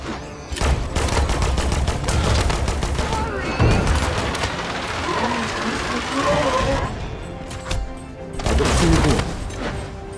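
Video game cannons fire in loud, repeated booming volleys mixed with rattling gunfire, as a player talks over the barrage.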